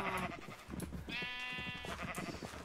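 Minecraft sheep bleat repeatedly in a crowded villager breeding farm, several wavering baa calls overlapping one after another, close and fairly quiet, with no talking.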